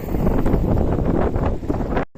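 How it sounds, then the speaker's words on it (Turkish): Strong wind buffets steadily across an open spot on Urla's Quarantine Island, a continuous rushing roar close to the microphone with no voices. "Şu rüzgar, rüzgarın sesi günlerce burada"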